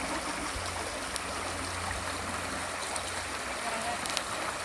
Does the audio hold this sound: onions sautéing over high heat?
no